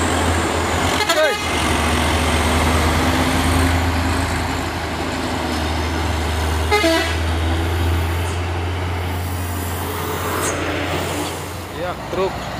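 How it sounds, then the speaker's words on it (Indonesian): A dump truck grinds up the steep, hot Bukit Kodok climb with a loud, steady low engine drone throughout. Short horn blasts break through near the start, middle and end, under traffic noise and occasional voices. "Ya truk, tapi suaranya seperti kapal bosku."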